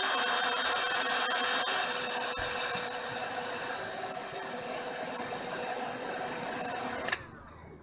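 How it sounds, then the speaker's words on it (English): A heat gun shrinks sleeves over soldered wires with solder tags for a Daly BMS on a LiFePO4 8S battery, giving a steady close whooshing hiss that ends with a sharp click as it shuts off. "I'll just do the heat shrinking."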